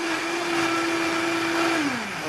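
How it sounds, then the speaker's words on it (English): Blender whirring through a vegan French toast batter in a quick blend, a loud steady motor hum held for under two seconds before winding down, close and with no talking. "I'm pressing my lid down and I'm going to give this a quick blend"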